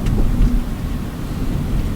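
Steady rain pours in a dense, noisy wash with a low rumble, loud and continuous throughout with no distinct drops or pauses.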